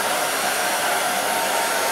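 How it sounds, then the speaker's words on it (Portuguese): A hair dryer blows steadily over bleached hair during home bleaching, a loud, close, continuous rushing whoosh that cuts off abruptly at the end. "você passando o secador aqui por cima ajuda a descolorir mais rápido"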